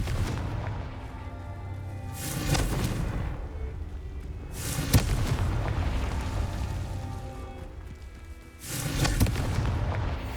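Confringo spell blasts in Hogwarts Legacy, several deep booming explosions spaced a few seconds apart over a rumbling game background, with no clear talk.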